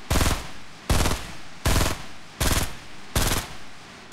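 Five sharp bursts of rapid automatic gunfire from the video game Fortnite, each about a third of a second long and evenly spaced, loud and close with brief pauses between them.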